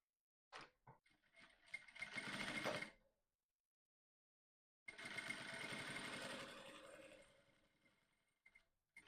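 A sewing machine stitching a boning channel on a corset, with two bursts of close, steady mechanical whirring separated by a short pause, the first preceded by a few clicks.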